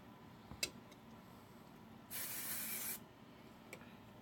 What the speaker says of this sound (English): you want to make sure you have a really good hairspray and just spray that all up